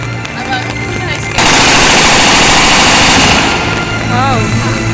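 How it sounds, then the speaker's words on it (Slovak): A police firearm demonstration at a horse show in Trenčín unleashes a loud, sustained burst of rapid automatic gunfire lasting about two seconds, after which the crowd murmurs and a voice speaks. "Streľba zo zbrane"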